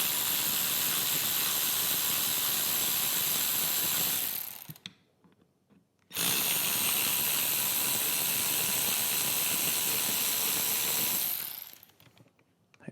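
A ratchet spins out Torx 20 bolts on the handlebar controls of a 2024-2026 Harley-Davidson Road Glide, in two long, loud, continuous runs of fast clicking separated by a short pause.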